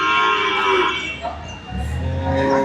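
A large Jafarabadi buffalo at Erragadda market gives one close, loud, drawn-out moo that rises and then dips briefly before trailing off.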